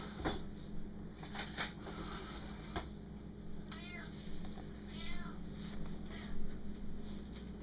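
A house cat meows softly several times, its faint, rising calls heard over quiet room noise with a few light knocks.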